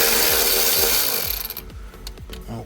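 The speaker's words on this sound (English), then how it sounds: "I'm gonna start taking these T20 Torx out" A power tool backs T20 Torx screws out of a Mini Cooper dashboard, giving a loud whirring, rasping burst that fades after about a second and a half, then a few faint clicks and rattles of loosening trim follow.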